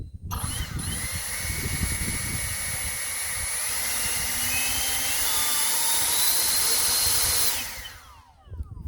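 EGO 56V 650 CFM battery leaf blower starting up and whining at high speed, a loud close steady whoosh with a high fan tone that shifts with the trigger and then spins down near the end.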